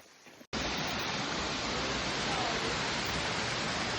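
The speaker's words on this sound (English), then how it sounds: "But that's it, a waterfall." South River Falls in Shenandoah National Park roars as a steady, loud, broadband rush of falling water that cuts in abruptly after a brief quieter moment and then continues unbroken.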